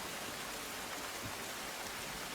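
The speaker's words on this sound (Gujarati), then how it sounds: "પાટણ શહેરમાં સવારથી જ ધોધમાર વરસાદ વરસ્યો" Heavy monsoon rain pours down on a town in Patan, Gujarat, in a dense, continuous roar with no breaks or voices.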